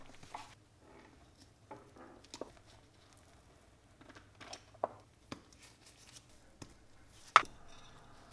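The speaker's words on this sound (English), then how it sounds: "I'm going to go ahead and just cut out this whole section and reconnect these wires." Wire cutters snipping out a pinched, snapped section of trim and tilt wiring on a 1991 Johnson 50 hp outboard motor: scattered sharp, close clicks and snips over quiet handling rustle, with one louder snap near the end.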